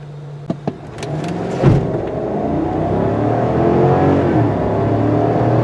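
A 2022 GMC Sierra 1500 Denali V8 pickup accelerating hard in all-wheel drive, its engine note building into a steady, loud roar after a few brief clicks and a short burst at the start.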